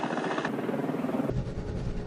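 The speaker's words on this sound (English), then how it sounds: "so I was thinking maybe like a chopper." A brief helicopter-like whirring drone that changes character abruptly twice, like clips of rotor noise being switched.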